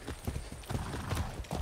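Horse hooves clip-clop steadily during a ride in the video game Far Cry 6, a quick, even rhythm of close, fairly loud hoofbeats with a brief whinny-like sound mixed in.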